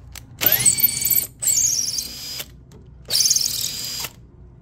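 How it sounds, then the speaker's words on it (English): A power drill drives a screw down to tap threads in a jig for a Granberg G-1012XT electric chainsaw sharpener, whining loudly in three separate bursts with short silent pauses between them. "I got to run the screw down to tap the threads"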